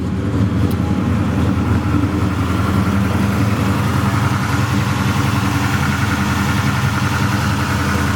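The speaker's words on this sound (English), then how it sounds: "The stroker motors, they rev really nice and they got gobs of torque." A 383 stroker V8 in a 1968 Chevrolet Chevelle SS with a TKO 600 five-speed idles loud and close, giving a deep, steady, lopey rumble with no revving and no voices.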